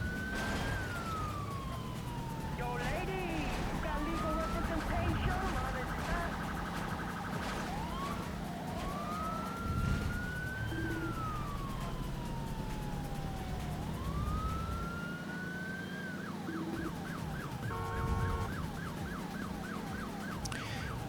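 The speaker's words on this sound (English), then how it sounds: "I think I get the police coming after me for a wee while" Police car sirens wail and yelp repeatedly while chasing a street racer in Midnight Club on PS2, rising and falling sweeps with stretches of rapid yelping over a constant engine and road rumble, continuous and fairly loud.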